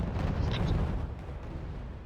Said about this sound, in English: My artillery is just firing.